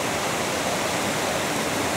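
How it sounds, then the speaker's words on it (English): A waterfall in a stream bed beside abandoned farmland in rural Japan roars in a steady, dense broadband rush, loud and continuous with no voices. "That's a nice looking waterfall there."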